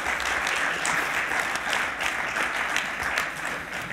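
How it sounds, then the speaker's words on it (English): A conference audience applauds a business panel, dense steady clapping from a sizable crowd lasting several seconds with little else heard. "Ladies and gentlemen, would you give our panel a round of applause,"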